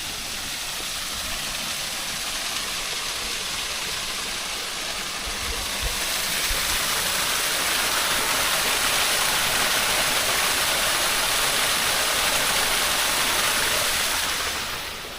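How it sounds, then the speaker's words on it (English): Witch's Rock Waterfall in Xinbeitou, Taipei, a steady broadband rush of falling water that swells louder midway and holds as a continuous roar. "Witch's Rock Waterfall."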